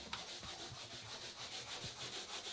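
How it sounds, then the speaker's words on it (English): Steady rhythmic sanding of fiberglass on a boat, a rough scraping rub repeating back and forth at a quick pace, fairly close and continuous. "And with the sounds of Amy sanding behind me, I've kind of got two options here."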